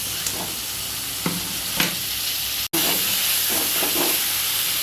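Pre-fried spice masala for a wedding-style shahi chicken korma sizzles and hisses steadily in a pan, close by, while a spatula scrapes through it a few times; the sizzle cuts out for an instant midway.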